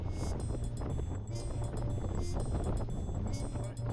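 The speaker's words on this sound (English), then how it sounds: "we're gusting up to 22 knots of true wind already" Gusting wind of about 22 knots buffets a reefed sailboat sailing in Scotland, a continuous loud rush of wind noise with faint rhythmic ticking over it.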